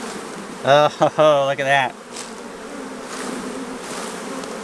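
Honey bees buzzing around an opened beehive during honey harvesting, a brief close, loud insect drone for about a second, followed by quieter background hum; a person speaks briefly.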